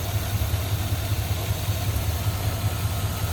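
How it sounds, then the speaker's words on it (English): A 1962 Oldsmobile Dynamic 88 with its 394 V8 idles smoothly and steadily, a low even rumble heard close up under the open hood with no talking. "Incredibly smooth running engine"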